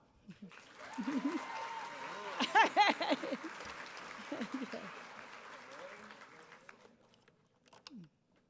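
Graduation ceremony applause in a hall: a soft, continuous wash of many hands clapping at a distance, running under a speaking voice before fading out.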